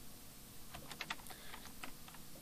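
Code is being typed on a computer keyboard, a quiet run of separate key clicks clustered in the middle, close up over faint background hiss, with no speech.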